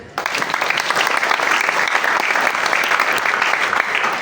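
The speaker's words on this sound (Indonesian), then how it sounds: "Tepuk tangan." An audience at a religious lecture in Ternate, Indonesia breaks into applause, a loud, dense and steady clapping from a crowd that starts abruptly and carries on for several seconds without any talking.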